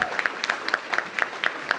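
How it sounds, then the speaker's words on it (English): Sparse clapping from a small crowd at a school ribbon-cutting event in Washington, DC, honouring a Ward 6 council member, with distinct individual claps in an uneven rhythm, fairly faint and at a moderate distance. "Let's give Charles a big round of applause."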